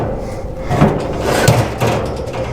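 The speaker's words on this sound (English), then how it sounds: "The first level slides out pretty easily." A grill grate on a Traeger Timberline 1300 pellet grill slides out, producing a short close scraping metal rattle with a couple of knocks.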